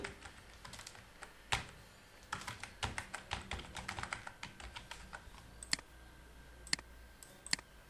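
Quiet, close keystrokes as member names go into a spreadsheet, irregular bursts of clicks with short pauses and a few sharper single taps, no voices.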